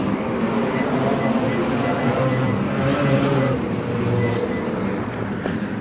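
Wingless sprint cars race at Laang Speedway, a steady, loud engine roar from the pack holding throughout with wind buffeting, no voices.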